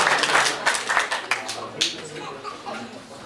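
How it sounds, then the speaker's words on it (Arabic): Applause for a participant at a national photography salon closing ceremony, a burst of crowd clapping fading out, with a voice speaking over it. "تصفيق آخر للمشارك بشير بن زين"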